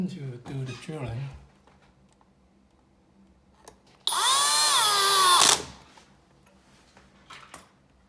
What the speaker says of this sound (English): And then you do the drilling.